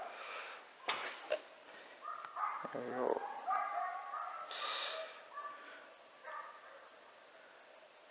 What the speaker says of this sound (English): We've got a dog freaking out in the background